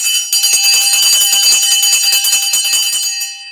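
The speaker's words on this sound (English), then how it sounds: "Ring that bell." A bright bell rings in a rapid, continuous metallic trill, loud and close for about three seconds before cutting off, with no voices.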